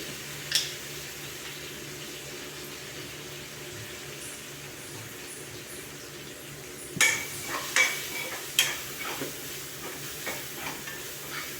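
A spoon works through cooked-down tomato masala with turmeric in a pan over a faint, steady sizzle, with a few sharper scrapes and taps against the pan toward the end.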